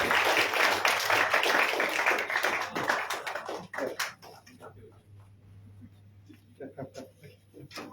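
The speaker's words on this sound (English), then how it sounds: "Let us give a warm round of applause to our esteemed speaker, Dr. Lim" A dense wave of audience applause greets Dr. Lim at the close of a health talk on Ganoderma, loud for about three seconds before thinning out into scattered claps and people talking.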